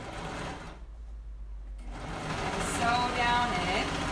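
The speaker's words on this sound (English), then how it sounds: "I think the machine actually is stretching the top piece a little bit as it's sewing" A sewing machine stitches a pillow seam with a steady mechanical whir that stops briefly and then resumes louder, close by, with no talk over it.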